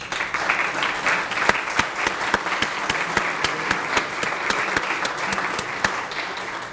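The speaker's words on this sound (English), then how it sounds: "if you stand up and receive the applause" An indoor audience at a volunteer recognition event gives the Board of Architectural Review members a steady round of applause, full and sustained with distinct individual claps standing out.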